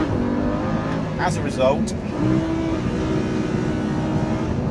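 A Lamborghini Huracan engine drones while the car is driven hard and understeers, with rising and falling pitch sweeps as it revs, and someone talks over it.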